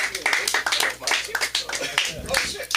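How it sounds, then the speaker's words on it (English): Audience applause at a live comedy show, a crowd clapping loudly and continuously, mixed with cheering voices and a host talking over it. "let's give a round of applause"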